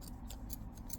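Scissors trimming knitting yarn ends: a quick series of faint, crisp snips in a steady rhythm, about five cuts in a second, heard close with no talking.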